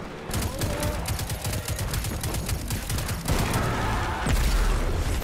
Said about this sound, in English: that was me shooting a grenade after the fact